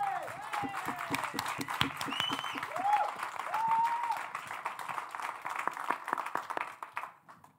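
Applause and clapping from a crowd at a French short-film show run steadily throughout, mixed with voices and a few high whistles or cheers, fading toward the end.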